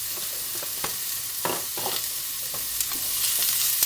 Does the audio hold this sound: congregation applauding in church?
no